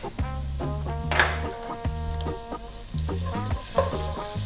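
Garlic and ginger fry in oil in a pot, giving a close sizzle broken by repeated stirring scrapes, with a rooster crowing several times nearby.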